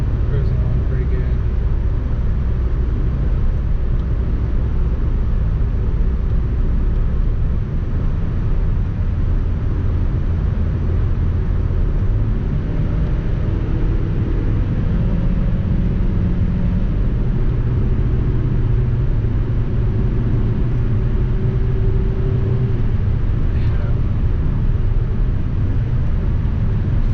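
Rebuilt Toyota 5FSE engine in a car cruising at light throttle, a steady low rumble of engine and road noise running continuously and fairly loud, with a person talking over it.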